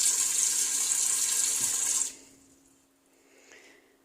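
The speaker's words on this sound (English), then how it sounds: "I'll fill it up with probably about a couple cups of water" Water runs steadily from a sink tap into an Instant Pot inner pot for about two seconds, then shuts off, leaving faint clinks and quiet.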